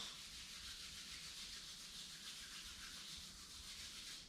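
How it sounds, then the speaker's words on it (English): Palms rubbing briskly together during a yoga session, a soft steady friction hiss lasting the whole stretch, close and quiet with no talking. "Rub your palms."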